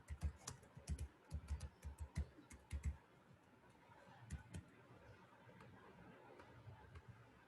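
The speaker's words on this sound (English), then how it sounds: "if I am typing this particular subject code" Fingers tap out a subject code on a computer keyboard, a quick run of crisp keystrokes for about three seconds, then quieter scattered clicks over a low room hum, with no talking.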